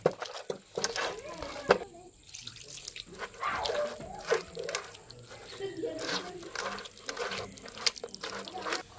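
Water poured little by little over soaked tamarind to squeeze out its pulp, with irregular splashes, trickles and drips in a bowl, close and moderately loud, with someone talking at times.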